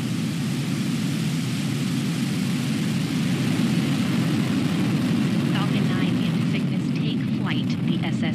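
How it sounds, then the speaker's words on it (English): A SpaceX Falcon 9 rocket lifting off carrying the Cygnus NG-21 resupply mission, a dense, sustained roar with heavy low rumble and crackle, while a voice speaks faintly over it toward the end. "Ignition. Engines full power. And liftoff of Falcon 9."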